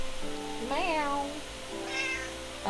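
A pet cat yells with loud, drawn-out meows, two clear rising-and-falling calls close to the microphone over a steady low background hum.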